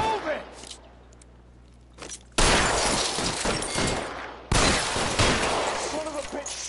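Gunfire in the video game L.A. Noire: loud broadband shot bursts erupt after a quieter opening, with a dense volley near the start and another sustained burst later, close and harsh.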